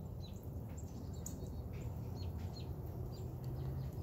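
Wild birds calling around a backyard feeder, with scattered faint chirps and clucking sounds over a steady low outdoor rumble, moderately distant, no talk.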